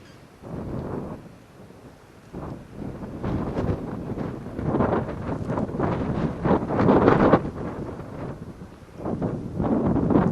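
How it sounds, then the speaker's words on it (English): Strong wind buffets the microphone on a hilltop during an ATV ride, a loud, steady roar with gusting surges throughout and no voices. "the wind up here is crazy"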